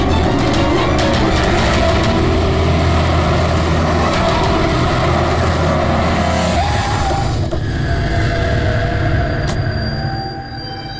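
A car engine roars loud and close as it speeds along a city road chasing a taxi, a steady rumbling drone with road noise that eases off near the end.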